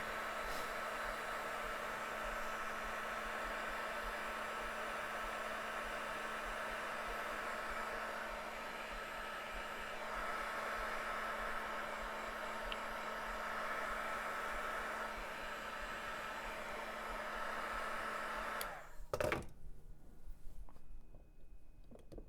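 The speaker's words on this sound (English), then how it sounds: "So I like the heat gun if we can get away with the heat gun." A heat gun running continuously while hand tying custom fishing jigs, a steady airy roar with a faint hum beneath, ending in a click and then quieter rustling.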